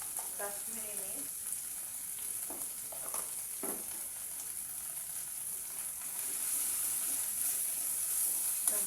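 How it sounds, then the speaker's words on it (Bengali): Turmeric and Kashmiri chili powder sizzle and fry steadily in a pan for a soyabean and potato dum curry, with scattered scraping clicks from stirring over a continuous hiss. "সবগুলোকে ভালো করে কষিয়ে নেব"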